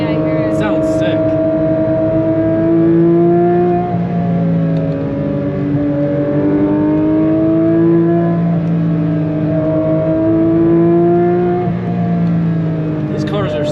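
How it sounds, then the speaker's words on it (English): A Porsche 992 GT3 RS driven flat out on a mountain road roars loud and close, its engine note climbing through repeated gear pulls with a high whine riding on top, while occupants talk over it. "almost sounds like it's like a race car whiny diff"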